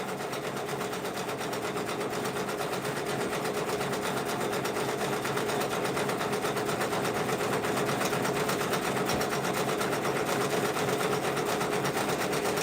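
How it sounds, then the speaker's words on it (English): A Brother Persona PRS100 embroidery machine stitches patches with a steady, loud, continuous mechanical whir and rapid needle rhythm, running on alone without pause. "teaching the youth how to use those embroidery machines"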